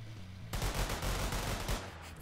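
Gunfire from a gun in the Roblox game Isle 9, a rapid run of close shots starting abruptly after a quiet moment and continuing to the end, no talk.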